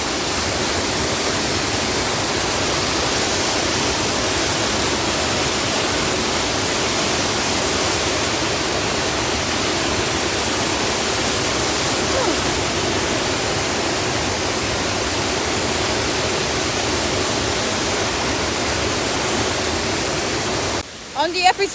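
A waterfall in Kirinyaga County, Kenya, roars as a loud, steady, broadband rush that stays constant for about twenty seconds, close by, before a brief disturbance near the end.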